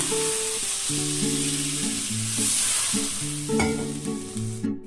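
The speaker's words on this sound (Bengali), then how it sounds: "এবার আমি পরিমাণ মতো জল দিয়ে দেব।" Fish curry spice paste frying in a pan, with water poured in for the gravy: a loud, steady sizzle and bubbling hiss continues throughout, close up and without speech.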